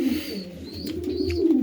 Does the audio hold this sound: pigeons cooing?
yes